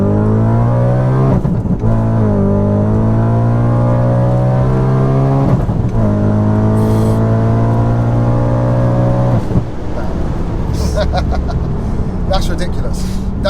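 A supercharged 629 bhp Audi RS4 accelerating hard through the gears, its engine droning and climbing loudly in pitch with sharp drops at each upshift, recorded close from inside the car.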